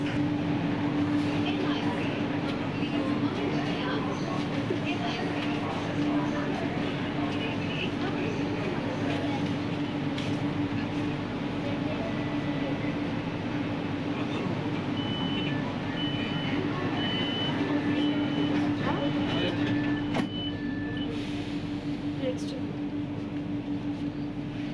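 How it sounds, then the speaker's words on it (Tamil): Chennai Metro train accelerating between stations, a steady loud rumble with a sustained motor whine running throughout, and speech heard over it. "ஆக்சிலரேஷன் ஸ்பீடு இதில் ரொம்பவே அதிகமாக இருக்குது கைஸ்."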